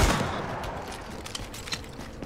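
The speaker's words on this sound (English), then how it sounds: "Because everybody knows what a shotgun does at close range." Tactical SASG-12K shotgun firing in the shooter game The Division, a loud blast at the start with a decaying boom and a few fainter shots after, over a dense game soundscape.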